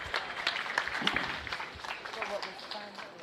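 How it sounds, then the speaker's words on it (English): Scattered audience applause at a county fair beef cattle show, a modest patter of clapping heard under an announcer's voice. "Let's give these exhibitors a round of applause."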